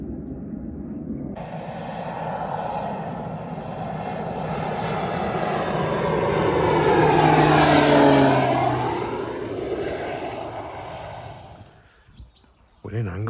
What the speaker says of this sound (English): Can't beat a noisy plane.